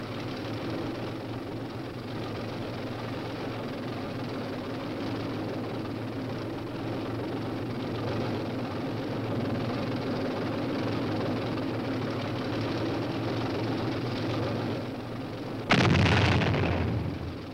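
M48 Patton tanks on a training exercise give a long, steady rumble of heavy engines and tracks, broken near the end by one loud, sharp cannon blast.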